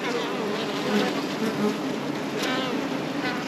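A dense, steady buzz of many honey bees at a large hive fills the air close by, continuous and loud without pause.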